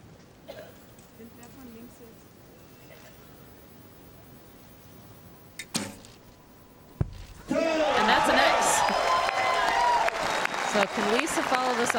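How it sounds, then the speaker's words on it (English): Crowd cheering at an archery World Cup women's recurve team gold final in Berlin, a sudden loud roar of applause and cheers rising after a sharp impact, sustained to the end, preceded by quieter commentary. "Big cheer from the crowd, the biggest one so far."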